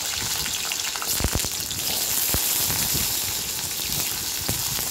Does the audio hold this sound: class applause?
no